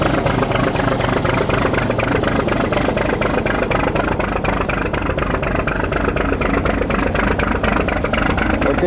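An old vehicle engine idling on a ranch, a loud, steady, rattling low rumble with regular firing pulses that runs unbroken and close by.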